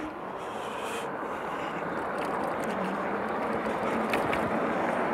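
An Engwe E26 electric fat bike pulls away from a standstill, and a steady rush of wind buffeting the microphone dominates throughout with no clear motor whine.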